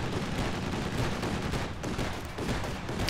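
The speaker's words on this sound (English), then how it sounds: "There's a half-track ripping off shells" A half-track fires shells in Company of Heroes 2 during a 3v3 forest-map battle, giving a continuous, dense barrage of rapid gunfire and blasts that stays loud and unbroken throughout.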